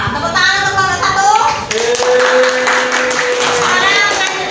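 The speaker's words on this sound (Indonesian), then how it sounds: "Tepuk tangan untuk nomor 1." A class gives a round of applause in a mathematics lesson, with a short burst of clapping mixed with voices and a sustained tone.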